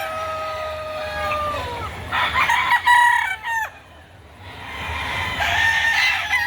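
Alimbuyugin rooster at a chicken market crowing in several loud, drawn-out calls close by, with clucks and market chatter around it.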